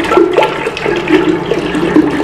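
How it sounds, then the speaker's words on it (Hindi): Water pours steadily into a cooking pot for boiling lentils, a close, loud gushing splash with a few uneven surges as the flow continues. "दो से तीन गिलास इसमें पानी ऐड कर लिया है"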